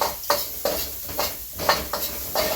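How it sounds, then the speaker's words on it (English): Ginger and red chili stir-frying in a pan, giving a crackling sizzle punctuated by about seven rhythmic scrapes and tosses of a spatula, close and without voices. "we're going to stir fry this just until it's nice and fragrant"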